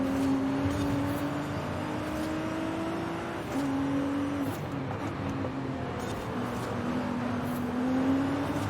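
Nissan GT-R engine held long in first gear during a night race in Forza Horizon 5, a steady loud engine drone with rising and falling tones and gear-shift dips, continuous throughout.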